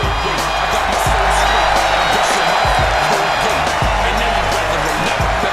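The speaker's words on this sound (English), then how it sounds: "This crowd appreciates Studo because they have seen what he is willing to show them" Arena crowd cheering in a WWE 2K wrestling video game event, a steady loud roar of cheers and whoops running throughout with occasional thuds.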